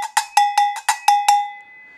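Seven bright metallic clanks from agogô bells squeezed together, in a steady, quick rhythm, each ringing briefly before the last one fades out; close and fairly loud, no voices.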